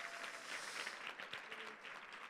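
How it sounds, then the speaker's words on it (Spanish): A church congregation applauds at a Sunday service, a dense, fairly distant wash of many hands clapping at once, steady throughout and without a clear voice over it. "Dele ese aplauso fuerte al Señor que está en este lugar."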